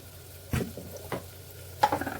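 A ground paste is stirred into a sizzling pan, making a few spaced scraping stirs over a faint sizzle, close by, with a busier burst of stirring toward the end and no talking.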